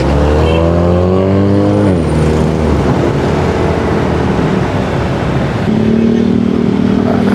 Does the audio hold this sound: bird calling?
no